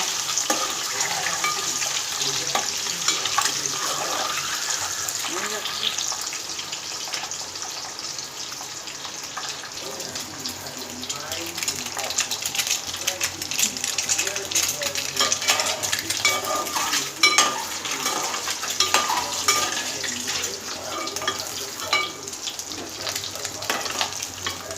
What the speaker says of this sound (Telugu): ఎగ్ ఫ్రై చేసుకోవాలి ఫస్ట్.